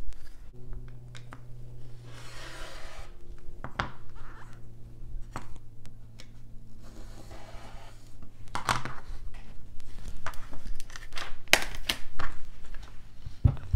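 Cotton quilt fabric being cut for the ribbon strip of a Christmas present block: close, repeated slicing and chopping strokes at an uneven pace against a quiet room hum, with no talking.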